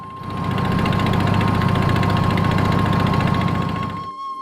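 A boat engine runs steadily on the Padma river as a loud, close drone that carries on without a break and cuts off near the end.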